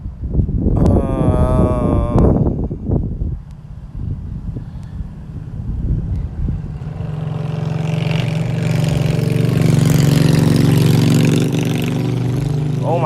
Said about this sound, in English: Oh my gosh, that motorcycle